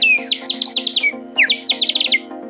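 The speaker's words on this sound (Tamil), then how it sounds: "தண்ணி ஊற்றி யூஸ் பண்ணிங்களாக்க சிட்டுக்குருவி மாதிரியே சவுண்டு வரும்." A water-filled clay whistle gives off quick bursts of bright, sparrow-like chirps and trills in two rapid flurries, close and clear over a faint low hum.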